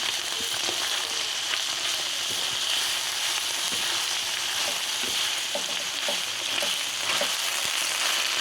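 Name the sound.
stirring fried rice with ingredients in pan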